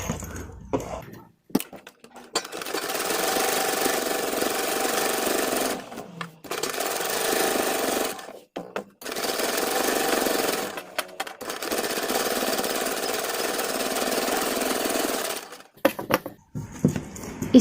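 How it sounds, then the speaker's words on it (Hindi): A sewing machine stitches along the edge of a boat-neck kurti neckline in long steady rattling runs, stopping and restarting several times with short pauses between bursts. "अब हम इसमें बिल्कुल किनारे किनारे, बिल्कुल इस तरफ यहाँ पे लगाएंगे सिलाई,"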